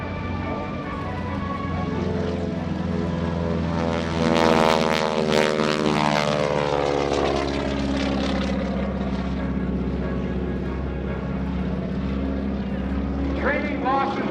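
An iconic propeller airplane trailing smoke makes its takeoff roll into a roll at the 2018 NAS Oceana Airshow: a loud, sustained engine drone whose harmonics climb and sweep in pitch as it passes.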